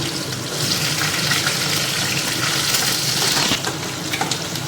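Asafoetida, onion and garlic fry in a pan with a loud continuous sizzle close by, steady throughout with faint stirring, and nobody speaking.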